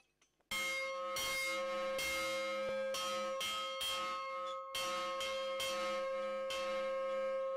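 A church bell rings loudly and steadily in repeated resonant strokes, each tolling note ringing into the next with no pause, heard alone without voices.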